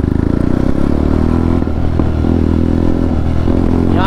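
A motorcycle with its dB killer removed and no other exhaust changes runs loud and close, its rough, throbbing exhaust note rumbling steadily through a short sound check.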